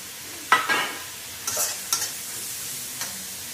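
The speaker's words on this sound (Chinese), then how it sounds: "油热了，又下锅里，放上葱姜蒜" Scallion, ginger and garlic dropped into hot oil in an iron wok give a few close, sharp sizzling bursts, the loudest at the start and smaller hisses following as the aromatics are stirred, with no talking.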